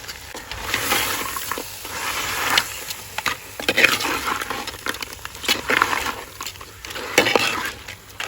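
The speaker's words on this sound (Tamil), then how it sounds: "வத்தல், மல்லி, தேங்காய் அரைச்சி அதோட சேர்த்து கிண்ட வேண்டியது" Crab curry with a ground paste of dried chili, coriander and coconut being stirred in a clay pot, with steady scraping and clinking of a utensil against the pot over a low background hiss.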